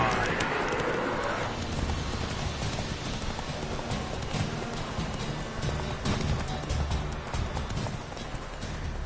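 Roach, the horse in The Witcher 3, gallops with a rapid, steady clip-clop of hooves, mixed with game ambience and a brief rushing swell at the start.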